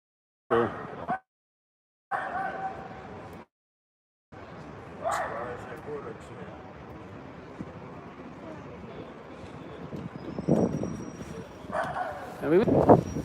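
A dog barks in short bursts near a New York apartment building in Inwood, Manhattan, at a police scene, with intermittent yips between quieter gaps and a steady outdoor hum beneath.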